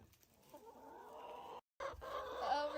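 A rooster clucks and murmurs close by in a steady run of low calls, with a brief dropout before the clucking resumes a little louder.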